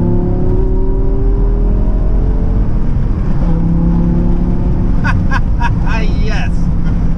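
A V10 BMW M5 fitted with a race exhaust drones loudly and steadily from inside the cabin, a deep continuous engine tone that rises slightly in pitch as it pulls.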